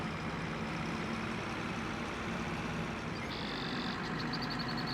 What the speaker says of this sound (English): Man, I love the sound of the new engine.